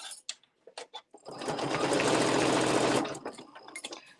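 Sewing machine stitching layers of plush wrap fabric, a rapid mechanical whir that runs steadily for under two seconds, preceded and followed by short clicks and handling taps, close and fairly quiet.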